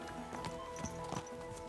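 Hooves clip-clop in a soft, steady rhythm beneath an ambient musical drone as a horse moves in Kingdom Come: Deliverance II, faint and close.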